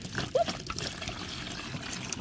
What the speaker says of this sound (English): let's add the vinegar into this tub here